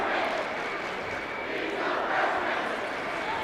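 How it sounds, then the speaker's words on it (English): Basketball fans roaring and cheering in a high school gym during a district playoff game, a loud, sustained crowd wash that swells slightly without break. "Fans cheering on Naheem Williams for his first points in a playoff game"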